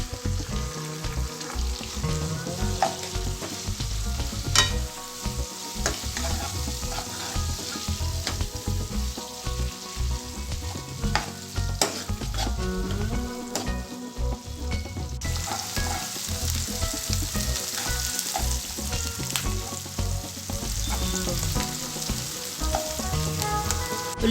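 Chopped onion pieces frying in a pan for bottle gourd dal, a steady loud sizzle with occasional pops and stirring clinks running throughout, no talking.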